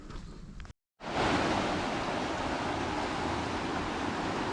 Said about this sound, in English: I could actually hear these rapids back in the trees.